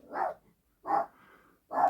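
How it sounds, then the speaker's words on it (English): A dog barks three times in clear, evenly spaced single woofs, fairly close and loud against an otherwise quiet room. "Apologies for the dog barking in the background."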